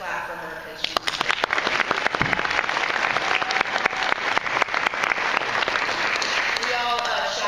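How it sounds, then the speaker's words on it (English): Audience applause at a VidCon 2015 panel, a dense spread of clapping that rises after a second and stays steady to the end, with sharp individual claps standing out and brief voices briefly over it. "So let's just clap for her because she's here."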